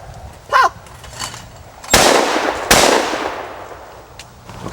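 Two loud, sharp gunshots ring out about a second apart while shooting at targets outdoors, each with a broad burst and a lingering echoing tail, following a brief faint chirp.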